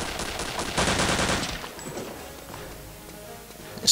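Gunfire from Return to Castle Wolfenstein arrives as a quick burst of rapid shots over about a second, then fades into quieter game ambience, with one sharp sound at the very end.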